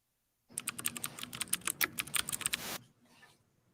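Rapid typing on a computer keyboard, a dense run of close, crisp key clicks lasting about two seconds, then a softer tail of faint noise.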